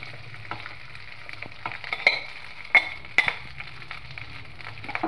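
Rice for jeera rice stirred in a frying pan with fried curry leaves: a soft continuous sizzle under scattered spatula taps and a few sharper scrapes, fairly close.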